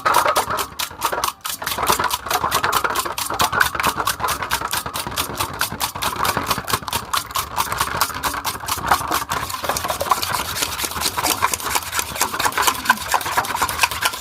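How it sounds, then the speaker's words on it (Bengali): An egg mixture for egg paratha is beaten briskly and rhythmically in a bowl, producing a fast, steady run of tapping strokes that continues for the whole stretch. "এবার এটাকে ভালো করে আমি একটু ফাটিয়ে নেব এইভাবে সুন্দর করে ফাটিয়ে নিতে হবে"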